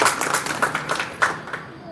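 Devotees at a spiritual gathering break into brief applause, a short burst of scattered hand claps that fades within a couple of seconds.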